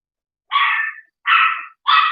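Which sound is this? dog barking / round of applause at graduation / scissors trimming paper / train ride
dog barking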